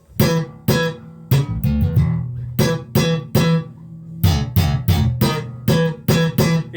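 Bass guitar played through a P (Precision) pickup, a run of punchy plucked notes with a thick, round low end and a bright attack on each note, steady rhythm, close and loud with no voices.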